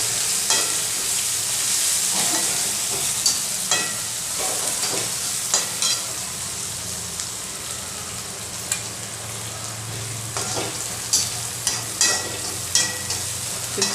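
Chopped onion sizzles steadily in a hot pan as garlic-chili paste goes in, a continuous frying hiss broken by repeated scraping taps of a spatula stirring, close and fairly loud with no talking.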